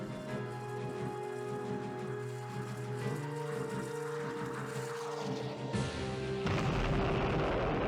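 A SAM site blown up in a NATO versus Serbia naval wargame: a sustained rumbling blast with layered low booms and tonal drones throughout, swelling louder near the end, with no talk.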